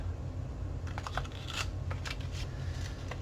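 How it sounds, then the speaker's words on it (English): Martha Stewart photo corner punch snipping paper corners, a few soft crisp clicks and snaps close by over a steady low room hum. "this is a Martha Stewart punch that makes like a photo corner"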